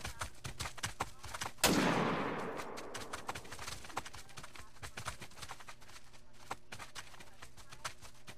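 A single loud hunting rifle shot in theHunter: Call of the Wild cracks out and rolls away in a long fading echo, amid a steady ticking rhythm of footsteps and ambient outdoor sound.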